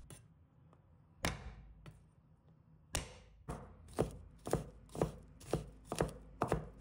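A knife minces garlic on a cutting board: a few scattered chops, then a steady run of sharp, evenly spaced strikes, close and crisp with no talking.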